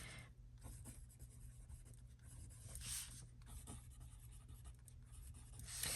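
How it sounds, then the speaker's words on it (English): A pencil scratches across paper during a papercraft gift box project, a faint, continuous soft scraping with small strokes and pauses, very quiet and close, with no one talking. "Maybe I'll just use my pencil."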